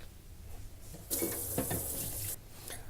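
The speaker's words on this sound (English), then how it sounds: "I'll just wash off this cutting board." Water from a kitchen tap runs over a cutting board as it is rinsed, a soft splashing gush lasting about a second and a half, fairly quiet and close.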